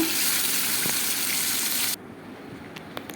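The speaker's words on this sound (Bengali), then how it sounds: "এবার মাংসটাও ভাজা শুরু করে দিয়েছি" Chicken pieces fry in oil in a pan for butter chicken, a loud steady sizzling hiss that cuts off abruptly partway, leaving a quieter room with a few faint clicks.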